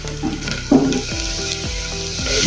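Onions frying in a pan for tuvar and chana dal, a steady close sizzle with scraping and clinks of a utensil stirring through it, no talking.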